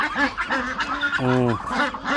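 Ducks at a large duck farm in Cambodia, loud nasal honking calls from several birds close by, overlapping in quick succession with one long drawn call in the middle.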